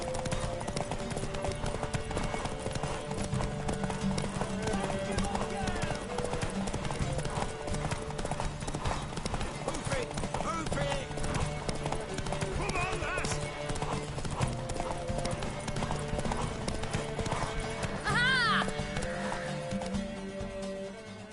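Rhythmic hoofbeats of a horse clip-clopping along in The Witcher 3 video game, under steady background music and speech, with a brief horse whinny near the end.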